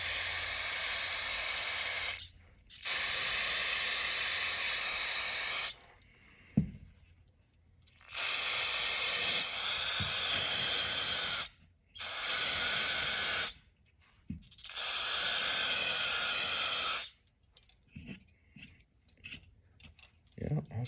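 Bursts of carb or brake cleaner sprayed onto a 10 micron fuel filter from a derby car, several loud hissing blasts of a few seconds each separated by short pauses, close and alone.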